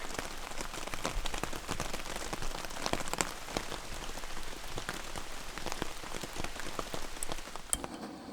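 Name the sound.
rain falling while camping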